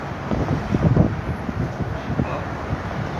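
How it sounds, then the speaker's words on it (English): Gusty wind buffets the microphone on a downtown Los Angeles rooftop garden, a low rumbling roar with uneven surges, alone and fairly close. "pretty windy up here"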